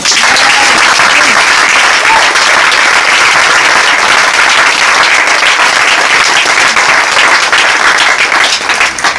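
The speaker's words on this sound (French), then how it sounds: "Acclamons le Seigneur." A church congregation breaks into loud, sustained applause that fills the whole stretch without pause, a dense wash of many hands clapping together.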